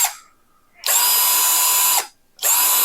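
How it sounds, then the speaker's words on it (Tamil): A Ralli Wolf cordless drill whirs in two steady high-pitched bursts, each starting and stopping abruptly with a short silent pause between, close and loud with no voices. "இந்த ட்ரில்லிங் ஆப்ஷன்ஸ்ல வச்சு நம்ம வந்து ட்ரில் பண்ணிக்கலாம்."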